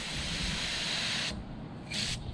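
A short blast of air hisses through a dirty lawn sprinkler pipe adapter, a loud steady rush for over a second, then a brief pause and a second quick burst.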